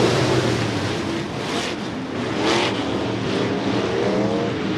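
Stock cars in a heat race roaring through the turns at Interstate Speedway, a dense, continuous engine drone from several cars with rising and falling pitch, loud and steady throughout.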